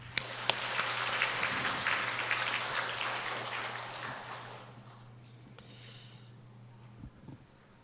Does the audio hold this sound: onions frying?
no